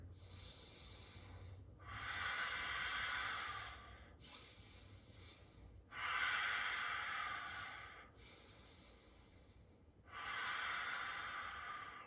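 Slow, deep breathing in a wellness workout: three long, close, soft exhales alternating with quieter inhales in an even rhythm, with no speech.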